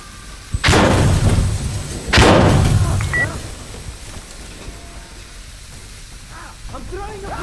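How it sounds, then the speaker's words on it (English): A grenade goes off in the hardcore shooter game Insurgency Sandstorm. Two heavy, booming blasts come about a second and a half apart and are loud and close, followed by low rumbling ambience and a few faint distant sounds. "I'm throwing a grenade!"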